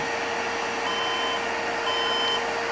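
An HP Compaq dc7800 desktop PC emits a steady electronic beep on boot, a sustained tone held over loud fan or machine hum with no pauses, close and fairly loud throughout.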